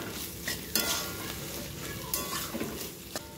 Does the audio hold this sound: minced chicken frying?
yes